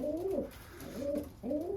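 Iraqi pigeons coo close by in three rounded, throaty phrases with short pauses between them, with no talk.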